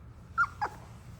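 A puppy from a Doodle litter lets out two brief, high whimpers in quick succession, close and fairly soft over a low background hum.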